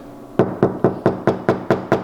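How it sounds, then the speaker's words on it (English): Eight evenly spaced knuckle knocks on the bare driver's door panel of an Infiniti G35 before sound deadening, each a sharp hollow rap with a brief tinny ring, close and alone. "I'm gonna go ahead and knock on this and show you guys how much tinniness it has"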